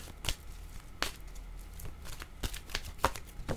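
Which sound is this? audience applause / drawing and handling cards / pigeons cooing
drawing and handling cards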